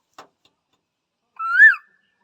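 A single short rising-and-falling whistled note imitates a quail call, preceded by a faint click, sounding alone in otherwise quiet surroundings.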